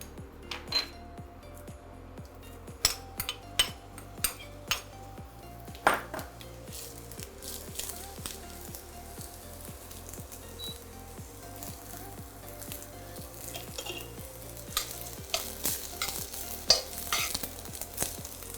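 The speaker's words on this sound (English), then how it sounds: "Heat up your oil and add some garlic" Garlic and onions sizzle in hot oil in a pan, a steady close crackle broken by repeated scraping strokes of a utensil stirring against the pan.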